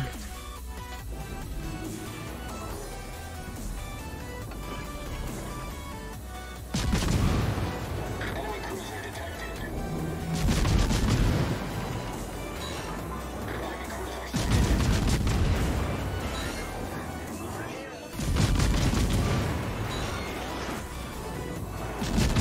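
Naval artillery from a World of Warships battle with a Worcester cruiser: four heavy booming salvos land at regular intervals over a background music bed.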